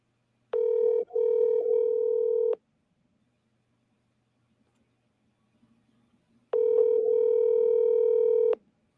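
A telephone sounds while a call is being placed: two steady, loud electronic tones, each about two seconds long, separated by roughly four seconds of near silence.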